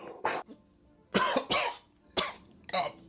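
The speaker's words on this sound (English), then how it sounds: "I don't like the sound of that cough" Several harsh coughs in quick succession, close and fairly loud, with short gaps between bursts.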